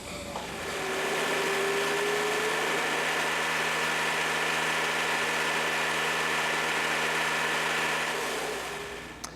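An Alamo Industrial TRAXX RF tractor's heavy engine runs steadily with a loud broadband roar and a faint whine, rising at the start and easing off at the end.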